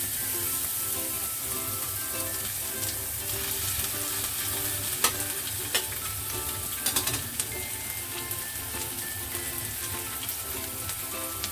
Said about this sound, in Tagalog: Pag mainit na yung ating mantika, lagay natin yung onion.